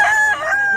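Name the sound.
Hatch Gray rooster crowing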